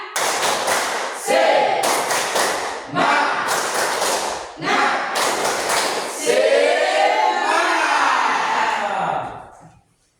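A group claps a rhythmic spirit cheer in a classroom, loud bursts of hand claps in repeated patterns mixed with shouted voices, ending in a sustained chant that fades out.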